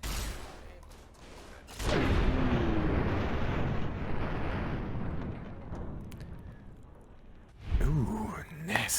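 Gunfire in the video game Fallout: New Vegas, with a loud burst near two seconds followed by a long rumbling roar, another blast toward the end, and faint voice-like sounds mixed in.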